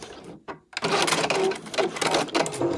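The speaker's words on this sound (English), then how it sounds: "So I'm just going to stop when I get to about here and do a back stitch." A sewing machine runs a short back stitch on a make-up wipe project, its motor whirring steadily and loudly after a brief start and pause, with a dense, continuous mechanical buzz.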